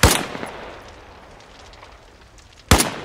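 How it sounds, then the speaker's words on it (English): Gunfire from AI infantry in the video game Arma Reforger: a loud, sharp burst at the start, then a quieter lull with faint distant pops, and another loud, close shot near the end. "They've started shooting at me already."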